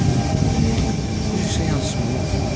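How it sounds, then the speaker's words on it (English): Electric suburban train pulling into platform 2 at Allawah station in Sydney, a T45 set leading, heard as a steady loud rolling rumble with faint brake tones throughout. "Postal service arriving into platform 2"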